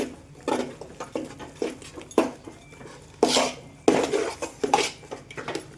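Dissolved green food colour goes into sabudana chakri dough in a kitchen, with a spoon or utensils clinking and scraping against a metal bowl in irregular, fairly loud knocks and rattles, and no speech.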